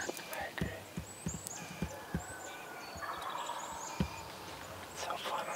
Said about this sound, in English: his gobbling frequency is like he's got some hens, maybe.